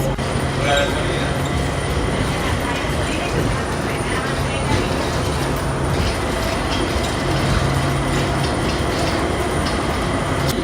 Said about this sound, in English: I have to take this monorail to the actual airport